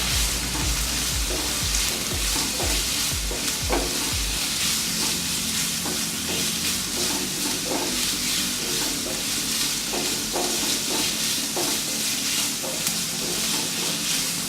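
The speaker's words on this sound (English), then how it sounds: "you can hear the sound, sizzling sound" Continuous loud sizzling of seasoned pork for a Kerala-style pepper roast frying in a pan, dense crackle and hiss with occasional stirring scrapes.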